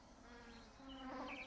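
Tiny psychoda moth flies buzz close around a flower, a faint, steady insect whine with a brief higher tone near the end, alone without voices.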